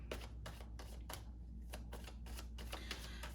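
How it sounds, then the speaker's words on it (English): Rapid crisp riffling of cards in a run of quick bursts, close by over a low steady hum. "we'll just bring some good shuffles here"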